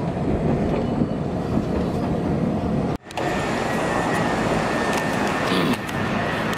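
Loud, steady rumble and rattle of a train interior on a ride toward Washington, with a brief dip in the noise partway through, then the continuous rolling roar carrying on without speech.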